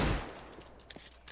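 A single loud gunshot in Counter-Strike: Global Offensive cracks at the start and decays quickly, followed by faint distant shots and clatter.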